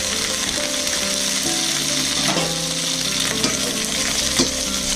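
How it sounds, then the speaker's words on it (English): Spareribs stir-fried in a hot caramelized sugar glaze for sweet and sour ribs, giving a steady loud sizzle with scraping and stirring clatter throughout and no talk. "And now we're going to go ahead and toss those ribs in there carefully."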